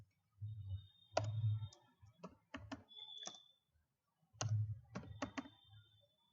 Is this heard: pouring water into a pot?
no